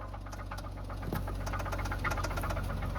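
A running car engine with a rapid, rhythmic knocking tapping over its low throbbing idle, steady and moderately quiet.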